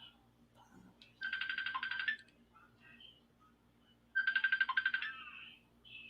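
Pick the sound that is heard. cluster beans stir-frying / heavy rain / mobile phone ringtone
mobile phone ringtone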